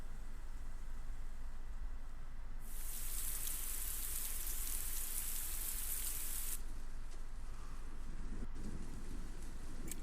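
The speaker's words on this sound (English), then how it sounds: "You can hear it raining outside." Steady rain falls outside at night in Persona 4 Golden, a continuous hiss with low rumbling thunder underneath; a brighter, louder wash of rain swells in the middle stretch before settling back.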